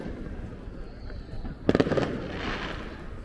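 Fourth of July fireworks go off at a distance as a quick crackling cluster of pops over an outdoor background murmur, fairly faint and brief.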